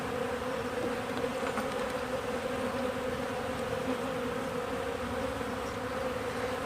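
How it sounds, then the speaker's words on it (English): Honeybees humming steadily inside an open hive during a late-season inspection, a dense continuous drone close by with no pauses and no voices. "there doesn't seem to be a lot of worker bees."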